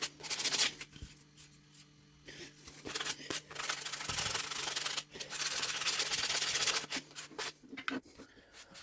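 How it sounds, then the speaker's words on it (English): Wooden coasters with joints filled with wood glue and sawdust paste are sanded by hand, close rasping strokes in uneven bursts with short pauses between them. "then I can sand that down"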